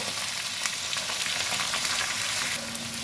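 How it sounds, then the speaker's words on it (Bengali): Quartered ivy gourd pieces fry in a kadai with a loud, close, continuous crackling sizzle that holds steady throughout. "কুদলিগুলোকে ভালো করে ভেজে নেব।"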